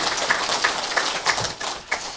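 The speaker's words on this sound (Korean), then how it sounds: "우리 먼저 하나님께 감사와 영광의 박수를 한번 돌려드리겠습니다." A church congregation at a Korean Thanksgiving Sunday service claps in a loud, rhythmic series of sharp, evenly spaced claps, roughly three per second, for about two seconds.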